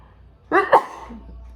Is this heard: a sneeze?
yes